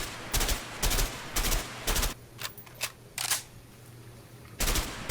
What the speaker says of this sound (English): Try shooting at those empty houses.